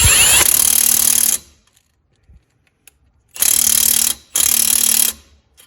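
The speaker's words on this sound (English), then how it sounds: "Put a ratchet on the bolt head, put your impact on the nut." An impact wrench hammers on a car suspension bolt nut during a Bilstein B8 and H&R spring install on a BMW F30 335xi, with three loud, close rattling bursts separated by short pauses.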